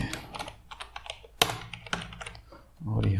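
Computer keyboard typing while coding a Laravel pagination tutorial: scattered quick keystrokes close to the microphone, with one sharper clack midway, followed by a low hum at the end.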